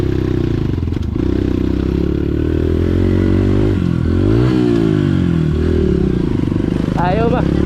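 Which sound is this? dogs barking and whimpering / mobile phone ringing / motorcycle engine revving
motorcycle engine revving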